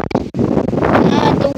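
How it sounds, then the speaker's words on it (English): Strong wind buffets the microphone outdoors in loud, continuous rumbling gusts over about a second and a half, with a voice briefly heard at the start. "the wind."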